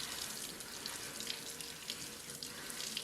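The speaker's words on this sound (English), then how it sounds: "underneath a cold tap. And that should start to rinse away" A cold water tap runs steadily into a sink while tomato seeds are rinsed, giving a continuous soft splashing hiss with no voices.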